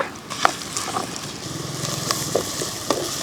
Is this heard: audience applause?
no